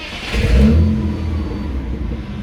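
A BMW E46 with the M52TU 2.5-litre petrol straight-six revs up loudly and close by, then settles back to a steady idle hum, with no voices.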